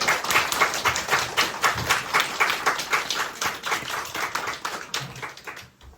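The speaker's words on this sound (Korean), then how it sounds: "큰 박수로 환영해 주십시오." Guests applaud at a wedding held in a neighborhood bookstore, welcoming a poet about to give a congratulatory speech; lively, close clapping from a modest crowd, with uneven rhythmic pulses, dying away near the end.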